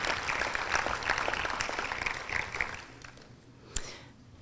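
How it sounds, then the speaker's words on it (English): An audience at a youth awards and graduation ceremony applauds steadily for a few seconds. The clapping thins out and ends with one sharp clap. "So let's give everybody so far that I've announced a big round of applause."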